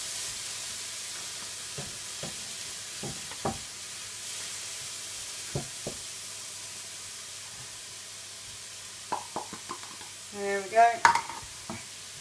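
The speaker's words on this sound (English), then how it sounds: "I'm just going to mix that in, melt the cheese down" Garlic and herb soft cheese being stirred into a frying pan of courgette pasta, quiet scattered scrapes and clinks of the spoon over a faint steady sizzle.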